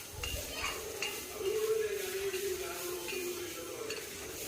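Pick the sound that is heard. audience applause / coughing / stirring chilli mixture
stirring chilli mixture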